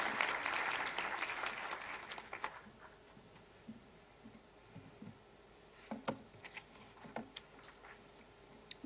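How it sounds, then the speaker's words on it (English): Audience applause at a medical school white coat ceremony, a burst of clapping for about two seconds that fades quickly, leaving a quiet room with a few scattered claps and small knocks. "A round of applause."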